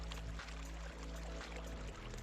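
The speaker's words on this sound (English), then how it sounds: "Step 4, rinse well with the tap running water." Water runs steadily from a tap while hands are rinsed under it, a continuous close splashing rush with a low hum, no voices.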